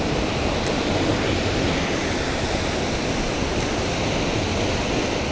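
Wind roars over a high spot while fishing in Maine, a loud, constant broadband rush that buffets the microphone without pause and with no voices.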